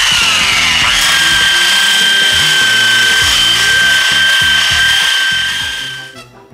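A power tool strips old Bondo filler from the body of a 1969 Volkswagen Karmann Ghia. Its loud, close, continuous high whine and grinding run for about six seconds, then spin down and stop.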